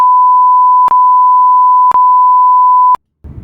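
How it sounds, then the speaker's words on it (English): A device lets out three loud, steady electronic beeps, each held for about a second with only a brief gap between them, followed by a short burst of low rustling noise. "I'm sorry, it keeps beeping"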